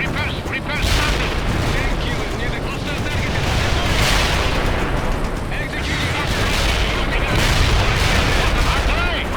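Artillery fire in the war strategy game World in Conflict, a dense, continuous roar of booming blasts and rumbling explosions with recurring louder bursts, under game voice callouts.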